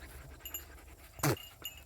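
A dog pants quietly in rapid breaths, with one louder burst of huffing midway through; a faint outdoor background sits underneath.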